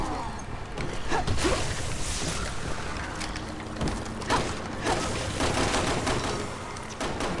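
Automatic weapon gunfire in the video game Resident Evil 6, dense rapid bursts crackling continuously over game ambience, fairly loud throughout.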